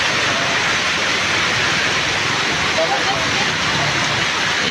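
Steady rain falls during a rainy trip home, a dense, even hiss that fills every moment without a break, with voices faintly mixed in.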